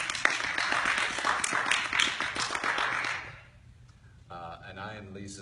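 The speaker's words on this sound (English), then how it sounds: "A round of applause" A small live-show audience claps for guests being introduced, a dense burst of handclaps for about three seconds that fades out, followed by a person speaking alone.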